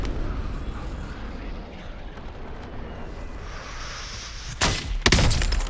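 Gunfire from the Warzone video game, landing a headshot: two loud, sharp bursts near the end, close and heavy, following several seconds of dense, rumbling battlefield noise.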